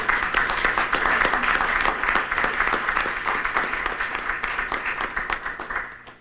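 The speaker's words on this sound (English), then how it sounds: "we ought to give him an applause for what he's done" Applause at a school board meeting, rhythmic clapping from a modest group, loud at first and thinning toward the end.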